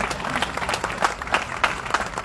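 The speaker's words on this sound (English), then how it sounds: "Let's applause." Guests at the Petersen Automotive Museum's evening reception opening its Hypercars exhibit break into applause, a dense, lively patter of many clapping hands with a few crowd murmurs mixed in.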